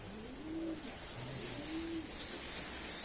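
Soft, low cooing from pigeons in a breeding coop repeats a few times over a constant hiss of background noise, somewhat distant.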